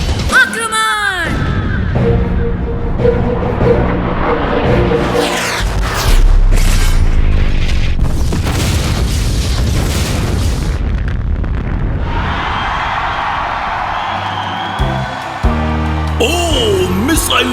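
Cartoon missile explosion striking a small cannon, heavy booms and bursts over a background score, with excited voices talking throughout.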